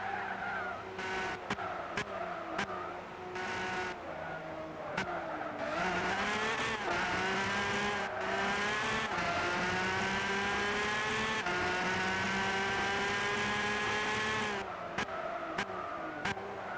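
Race cars in Gran Turismo 6 chasing a Ferrari: steady loud engine whine rising and falling through gear changes, with sharp clicks and brief tire squeal, continuous and close with no talk.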